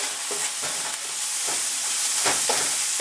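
Peppers and onions fry in a hot pan for a keto meatloaf supper, a loud steady sizzle close by with a few louder bursts of crackle as the vegetables are stirred.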